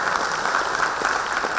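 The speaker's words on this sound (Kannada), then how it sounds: "ಚಪ್ಪಾಳೆ" Audience applause at a Karnataka award ceremony for teachers, a steady, dense clapping that fills the hall without a break for under two seconds, with no voices over it.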